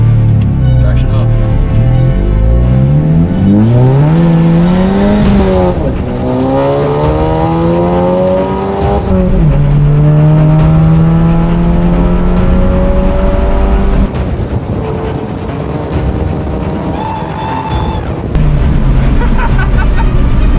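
A Volkswagen Golf GTI MK7 launches hard from a standstill and accelerates toward 100 km/h. The engine note rises loud and close through several gear changes, each marked by a brief dip before revving climbs again, with voices heard over it.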